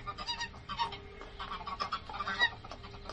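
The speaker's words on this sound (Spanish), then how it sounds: "se levantaron los gansos graznando" Geese honk and cackle in a busy, continuous flurry of calls at moderate volume, with no talk over them.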